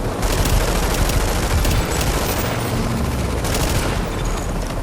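Dense, continuous gunfire from The Division fills the scene, with rapid automatic bursts layered over booms and heavy battle noise, loud and unbroken throughout with no talking.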